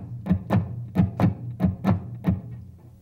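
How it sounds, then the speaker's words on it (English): A guitar plays a loping shuffle: pairs of plucked notes, long-short, repeating steadily for several beats, close and clear, then a short decay. "That's the shuffle rhythm."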